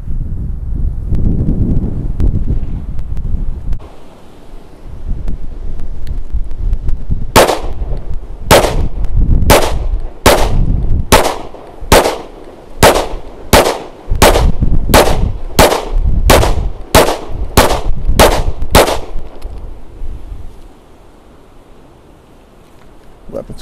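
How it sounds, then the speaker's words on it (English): A Smith & Wesson Shield Plus pistol in 30 Super Carry fires about fifteen loud, sharp shots in a quick, steady string outdoors, with wind noise around them and some talk before the shots begin. "I'm trying to get these rounds off quickly because the target's not going to last much longer."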